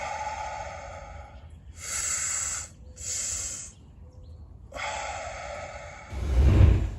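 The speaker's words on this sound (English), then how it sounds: "I'm going to take a deep abdominal breath, and then I'm going to fill the top of my lungs afterwards" A person takes a deep abdominal breath and then fills the upper lungs, heard as several long, close, airy inhalations and exhalations separated by brief pauses, ending with a heavier rushing breath.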